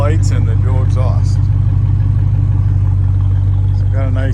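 A 1968 Pontiac Firebird engine runs steadily through its dual exhaust, a deep continuous idling rumble that holds throughout while someone talks over it close by.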